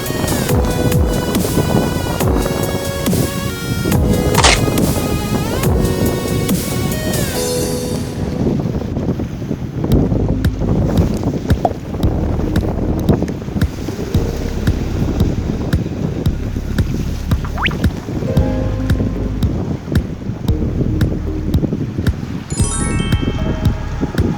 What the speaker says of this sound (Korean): 갑자기 바람 부노